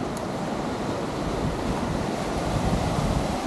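Sea waves wash onto the beach at Saltburn on the coast, a steady, loud roar of surf mixed with wind buffeting the microphone, with no talk over it.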